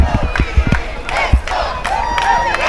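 A crowd of children at a school sports day in Cayman cheers and screams, with overlapping high shouts and whoops rising and falling in bursts, loud and close.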